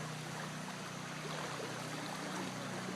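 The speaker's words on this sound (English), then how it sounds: "Like a whole bunch of rivers coming out of these driveways." Hurricane floodwater rushes down residential driveways in Cranford, New Jersey, a continuous broad watery wash with a low hum underneath, heard from a short distance without any voices.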